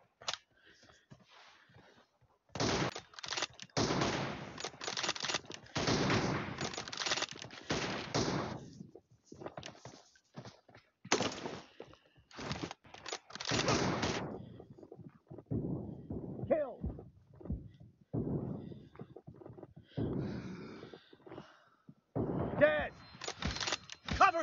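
Rapid bursts of automatic gunfire from a PUBG match crackle in dense volleys, followed by sparser, quieter shots and fainter exchanges, with some voices at times.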